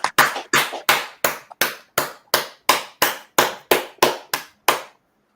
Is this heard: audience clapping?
yes